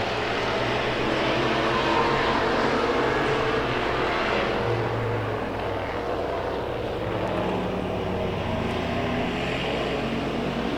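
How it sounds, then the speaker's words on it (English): Hobby stock race cars at a Hillsboro track roar together after a green-flag restart, a loud, steady, dense engine drone that holds close and unbroken with no voices. "9 of McLaughlin, and 88 of Todd Lockington as we get the green flag, and we're back to racing."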